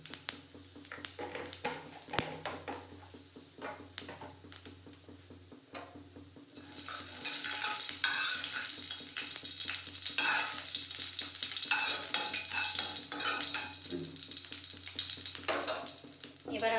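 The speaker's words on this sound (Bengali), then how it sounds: "এক চামচ মতো গোটা জিরে দিয়ে দিলাম।" Whole cumin seeds, about a spoonful, frying in a pan for an evening snack, a quiet crackle under handling noises at first, then a louder continuous sizzle that fills the rest of the stretch.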